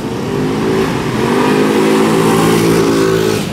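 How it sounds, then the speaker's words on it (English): A loud motorbike engine roars past nearby, its steady droning rev rising and fading over a few seconds, with no talking. "one of them loud motorbikes"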